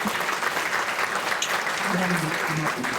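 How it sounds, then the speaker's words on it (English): Loud, sustained applause from an audience at a Rotary Club awards event honoring firefighters, thick continuous clapping with a few voices briefly audible underneath. "Let's give them all a round of applause"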